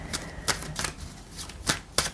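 Tarot cards being shuffled at close range, a handful of crisp riffling bursts spaced irregularly over about two seconds, with no one talking.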